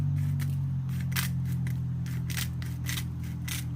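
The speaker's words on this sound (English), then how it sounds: "dollar store grinder" A cheap little dollar store grinder crunching chickpeas in repeated short bursts over a steady low motor hum, fairly close and moderate in level, with no talking.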